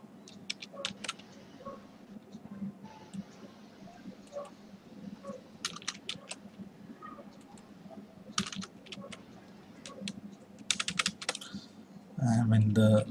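Typing code on a computer keyboard: rapid, uneven clusters of light key clicks run throughout at moderate volume, with a person talking in between and a louder burst at the end.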